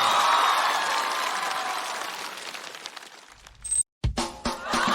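Studio audience at a Chinese stand-up comedy show applauds as guest actor Li Naiwen is welcomed on stage: a dense, sustained wash of clapping that slowly thins out, followed by a few sharp clattering knocks.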